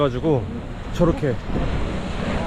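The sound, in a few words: sea waves crashing against cliff at Devil's Tears, Nusa Lembongan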